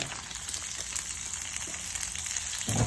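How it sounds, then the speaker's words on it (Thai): Macaroni with tomato ketchup sizzles steadily as it is stir-fried in a pan, with a continuous close hiss and a few light stirring scrapes, and no talk. "แล้วก็จะมา คนให้เข้ากัน ให้เข้ากันเลย ไล่ซอสมะเขือเทศไปให้หมด"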